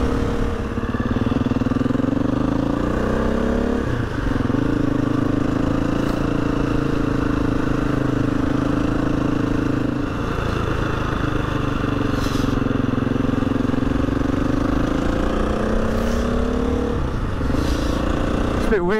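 A Husqvarna FE 350 motorcycle engine pulls uphill in sixth gear, a steady close drone with slight swells in pitch as the throttle varies, mixed with wind rush throughout.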